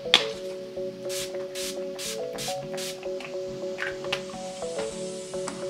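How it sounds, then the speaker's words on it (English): Several short, rapid hissing spritzes from an Urban Decay All Nighter makeup setting spray bottle, close by, over soft background music. "I'm just going to go in with some setting spray"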